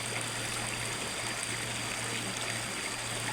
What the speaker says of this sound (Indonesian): Ya, kita harus menyeberangi sungai